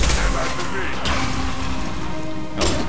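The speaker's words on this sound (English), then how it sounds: "Oh, nice. That guy just exploded." An enemy blowing up in Mass Effect 2: a muffled boom with rumbling debris, starting with a burst, then a lingering noisy wash, and a second sharp hit near the end, with no talk.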